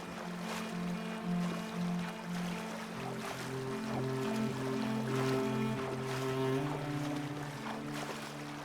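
Canoe gliding across a lake in a video game, gentle water lapping and paddle swishes at low level, with sustained tonal music notes playing underneath.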